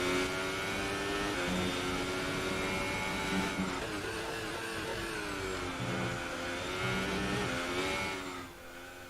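Formula One cars in a qualifying session give a loud, whining engine note that rises and falls in pitch as the revs change, with a short dip near the end.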